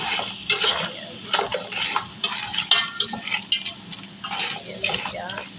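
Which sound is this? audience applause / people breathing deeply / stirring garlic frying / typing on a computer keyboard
stirring garlic frying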